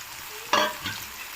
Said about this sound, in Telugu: ఆయిల్లో ఒక 5 మినిట్స్ వేగనిద్దాము.